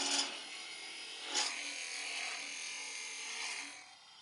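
A chisel scrapes a mini wooden baseball bat spinning on a lathe, a quiet, steady rasping with a few brief louder catches as the end is rounded off.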